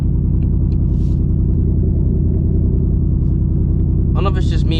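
A 2024 Ford Mustang GT with its V8 idling just after a cold start, a deep, steady, loud rumble with a throbbing low pulse throughout, a brief higher burst of noise near the end.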